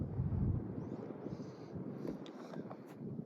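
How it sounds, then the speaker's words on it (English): Strong wind buffets the microphone in rumbling gusts outdoors in Scotland, strongest at the start, with faint higher hissing and a few small clicks later. "I'm not sure if you can hear me because of the wind."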